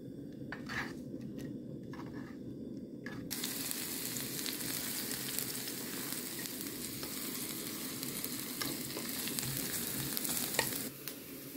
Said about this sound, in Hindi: मैं पहले ये जो लहसुन है उसको प्याज के साथ थोड़ा सा ब्राउन कर लो।